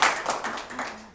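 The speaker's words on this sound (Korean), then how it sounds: "박수 감사합니다." Brief burst of clapping from a seminar audience at a business presentation in Korea, short and fairly near, with a faint voice underneath.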